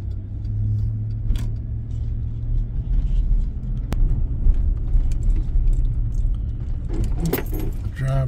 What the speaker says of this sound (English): Driving through the neighborhood, kind of like a semi-shortcut